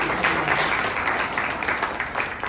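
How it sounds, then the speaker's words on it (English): Audience applause for honorees at a state senator's Earth Month recognition event, a moderate burst of steady clapping from a room of people with no talking over it. "Could we please give them another round of applause?"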